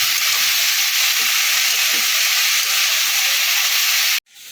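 Winter vegetables sizzle loudly in hot oil for shrimp chochchori, a steady close hiss that runs without a break and stops abruptly near the end.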